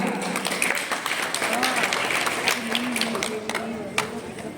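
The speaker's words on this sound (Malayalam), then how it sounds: "നമുക്ക് എല്ലാവർക്കും ഒരുമിച്ച് നല്ലൊരു കൈയടി കൊടുക്കാം" An audience at a wedding reception breaks into sustained applause, a dense clapping wash from a crowd with voices and cheers mixed in throughout.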